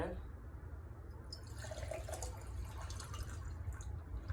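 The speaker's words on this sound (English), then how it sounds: "we're going to put about 2 cups of water" Water is poured in to sanitize hemp spawn, a steady close trickle and splash running throughout under a low background hum, with a voice speaking over part of it.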